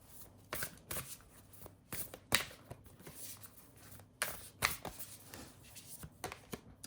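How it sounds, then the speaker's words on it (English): Vampire's Oracle cards are shuffled and drawn by hand, giving soft, close bursts of riffling and snapping card flicks at an uneven rhythm, faint overall with no talk. "Let me take one card from the Vampire's Oracle card as your final guidance."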